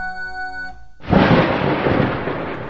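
A loud thunder crack bursts in after a brief musical sting, then a long rolling rumble sustains, used as a storm sound effect in a Red Panda radio drama episode.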